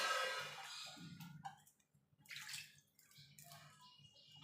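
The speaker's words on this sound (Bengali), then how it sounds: "এবার জল দিয়ে এটাকে আমি সিদ্ধ বসিয়ে দেবো।" Water poured into a pot of masoor dal before boiling, a close splashing pour that fades, then a few small trickles and drips.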